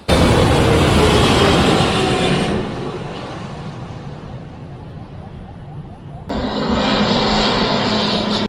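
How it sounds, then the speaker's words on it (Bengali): A Biman Bangladesh Airlines airliner on approach over Baunia, Uttara, near Dhaka airport, gives a heavy, close jet roar. The roar eases to a lower rumble midway, then jumps back up loudly near the end. "এই বিমানটি বিমান বাংলাদেশ এয়ারলাইন্সের একটি বিমান"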